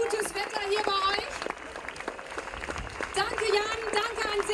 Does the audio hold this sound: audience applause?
yes